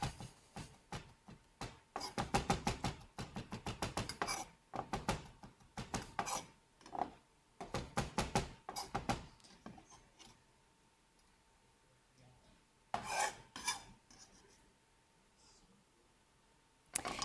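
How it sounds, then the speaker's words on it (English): A knife mincing pickled vegetable on a cutting board for a salad, close rapid chopping taps in quick bursts separated by short pauses. "So it comes already pickled. I'm going to mince it up."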